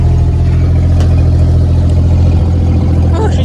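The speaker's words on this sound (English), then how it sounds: "I'm gonna rev up on the idle a little bit" An International L-130 truck engine, choked and idling, runs with a loud, steady low rumble that rises slightly as it is revved up, close to the microphone with no talk over it.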